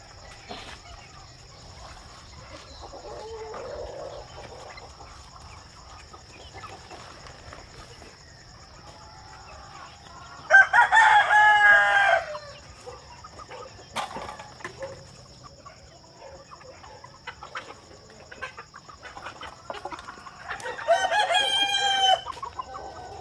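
Chickens cluck softly on and off, then a rooster crows loudly twice, once midway and again near the end, over a faint insect hum.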